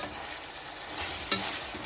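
Shredded chicken frying and being stirred in a pan with macaroni pasta; a soft, continuous sizzle with a brief scraping clink of the stirring utensil partway through, and no talking.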